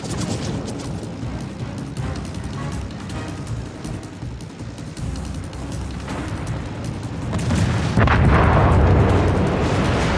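Combat in the video game Indomitable, a fighter taking fire: continuous rumbling artillery-like booms and gunfire, loud and dense, swelling near the end, with no talk.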